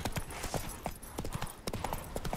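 Hooves of Roach, Geralt's horse in The Witcher 3, pound out a quick, rhythmic galloping beat, close and distinct, with no voices over it.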